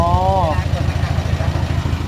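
A twin-axle farm truck's diesel engine idles with a steady low chugging throb, close by, while a voice speaks briefly over it at the start.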